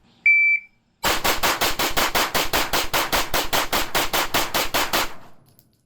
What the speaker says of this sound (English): 21 rounds as fast as we can go.